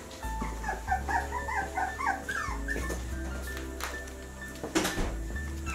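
Puppies squeak and yip in quick high bursts over a steady low hum, a few sharper cries near the end.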